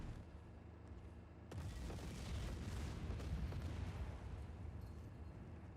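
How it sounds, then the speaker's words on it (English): Explosions and gunfire boom in Just Cause 4, a dense, continuous barrage of blasts rumbling at moderate volume after a quieter start, with no talk. "I'm seeing explosions."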